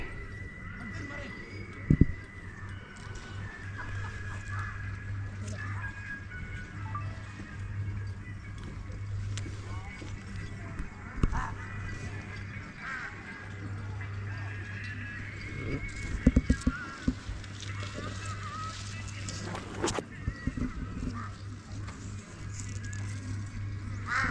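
Horses whinny and snort a few times amid hoof clops and a steady low hum in Gulmarg, Kashmir, with short bursts of activity scattered through.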